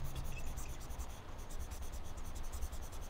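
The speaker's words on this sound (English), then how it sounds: "let me go ahead and erase this" Steady scratchy rubbing of an eraser wiping writing off a board, continuous and fairly quiet with a faint rhythmic back-and-forth texture.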